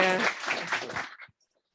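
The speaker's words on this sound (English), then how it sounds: "I would give a very warm applause to Mr. De Boer for his very interesting." Applause from a conference audience at the close of a talk: a dense, steady patter of clapping with a few voices mixed in, lasting about a second before breaking off into silence.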